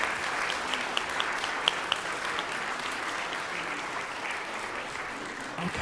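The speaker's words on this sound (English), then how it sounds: "one more round of applause, please, for Chamberlain's" Steady applause from a concert audience after a band performance, dense clapping with a few sharper individual claps standing out, continuing evenly throughout.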